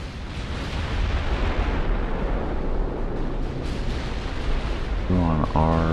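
Naval gunfire and shell explosions in the warship battle game Ultimate Admiral: Dreadnoughts, a dense continuous rumble of booming blasts that runs the whole time at steady loudness, with a sharp burst of repeated impacts near the end.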